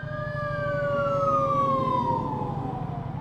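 A fire engine siren wails in a slow descending tone over a rumbling engine, loud and close, then fades slightly as it passes.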